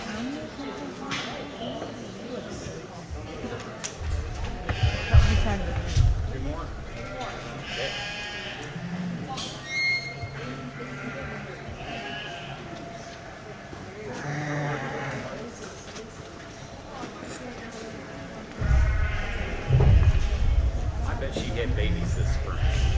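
Sheep bleat repeatedly, some near and some farther off, in a show barn at a junior county fair sheep show, amid hoof shuffles and a busy murmur of people talking throughout.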